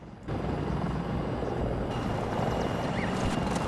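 A stealth helicopter in the Battlefield 2042 video game roars with a loud, steady rotor and engine drone that holds throughout, with no talking.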